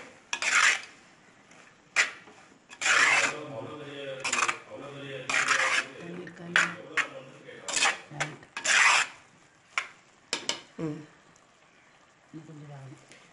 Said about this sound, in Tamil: இப்போ நம்ம உப்பும் சேர்த்துக்கலாம். நம்ம டேஸ்ட்டுக்கு தேவையான அளவுக்கு உப்பும் சேர்த்துக்கலாம். போட்டு நல்லா நம்ம கிண்டி விடணும்.